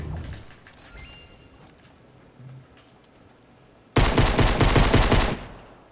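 Gunfire in the video game Fortnite: scattered faint shots early, then a loud, dense rapid burst of automatic fire lasting about a second and a half before fading.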